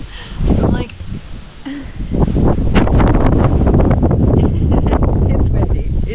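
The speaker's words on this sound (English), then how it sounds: "it's windy. It's windy." Strong wind buffets the microphone in steady rumbling gusts, with rustling mixed in throughout.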